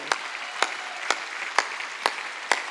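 Slow, deliberate single claps at a Sunday worship service in a Korean church, six sharp hits spaced about half a second apart in an even rhythm, fairly close and alone over a quiet room.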